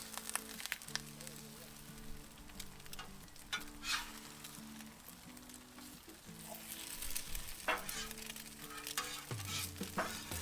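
Eggs frying on a Blackstone griddle that is running a little too hot, with a steady crackling sizzle under occasional scraping and stirring and brief quiet talk.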